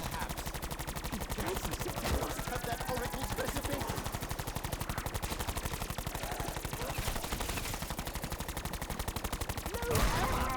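Rapid automatic gunfire from Black Ops 4 zombies mode, a dense continuous stream of shots running the whole time with a louder burst near the end, mixed with game effects and faint talk.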